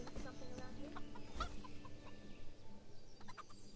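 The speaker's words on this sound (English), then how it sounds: "Look at this fucking chicken just..." Chicken clucking in the medieval game Kingdom Come, a few short clucks over steady ambient game background, with a sharper burst near the middle and quieter calls later.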